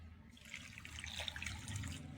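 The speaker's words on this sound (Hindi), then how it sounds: "इसमें आधा ग्लास पानी डाल लेंगे।" Half a glass of water poured into a cooking pot holding chicken with spices, a soft splashing trickle that starts after a brief pause and runs steadily, close and fairly quiet.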